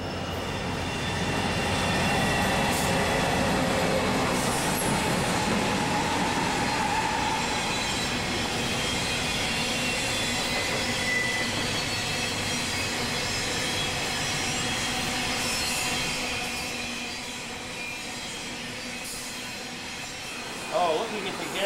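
A train rumbles steadily past for a long stretch, wheels clattering and faint squeals, gradually fading toward the end.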